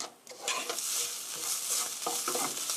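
Stir-frying for a soybean paste spaghetti sauce: a close, hissing sizzle runs steadily while a utensil pushes the food around the pan in repeated scraping strokes, with no voices.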